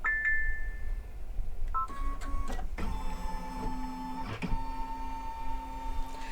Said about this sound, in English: So let's scan. This is the button for scanning.